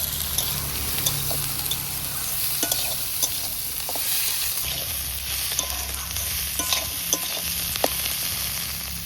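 Onion greens frying with potatoes in a pan, a continuous loud hiss of sizzling oil with scattered light stirring clicks throughout, close and steady, with no talk.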